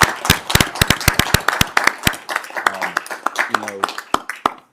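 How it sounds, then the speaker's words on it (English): Audience applause for a man named James at a utility board meeting: a burst of irregular hand claps from a small group, fairly close, thinning out over several seconds, with a few voices murmuring underneath. "I want to give you a round of applause."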